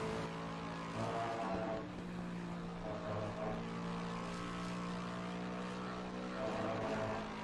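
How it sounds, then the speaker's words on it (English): A race car engine in a racing video game at Silverstone drones steadily at high revs, its pitch rising and falling slightly as the car circulates, with no talk over it. "listen to that engine."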